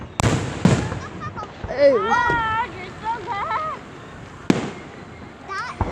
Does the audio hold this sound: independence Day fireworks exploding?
yes